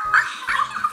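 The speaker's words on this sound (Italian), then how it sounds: "Vai Matti, accendi anche il cagnolino." An interactive LOL Surprise toy puppy gives short electronic barks and yips, several bursts in quick succession, close and fairly loud with no talking.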